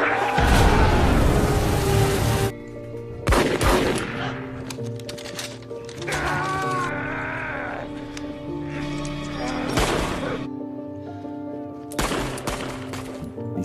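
Bursts of loud gunfire and artillery erupt in a film battle scene of American soldiers in the Philippines, broken by quieter stretches with music and sound effects.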